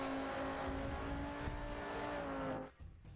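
Race car engine held in second gear through a 90-degree left in a racing video game, a steady loud drone with sustained harmonic tones that drops off abruptly near the end.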